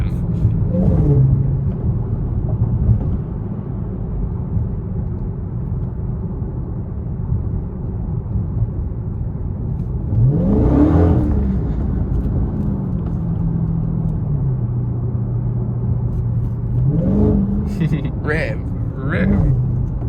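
A Dodge Charger Hellcat engine revs in several loud, low surges over a steady rumble of traffic, with people talking through it.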